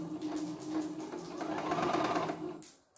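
A CNY E960 multifunction embroidery machine sewing a straight stitch, a close, continuous mechanical whirring and rattling that runs steadily and then winds down and stops near the end.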